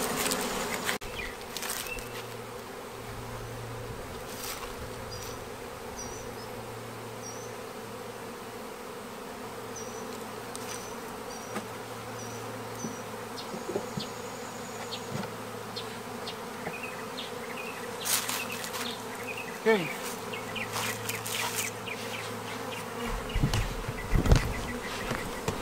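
A honey bee swarm is put into a new hive, and a constant close buzzing hum of many bees carries on throughout with occasional handling noises.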